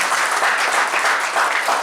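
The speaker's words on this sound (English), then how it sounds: "So big round of applause for Dr. Jamil Ahmed." Dense, steady applause from a conference audience at a valedictory session, filling the short moment close and loud with no speech over it.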